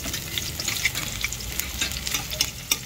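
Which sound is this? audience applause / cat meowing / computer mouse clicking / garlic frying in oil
garlic frying in oil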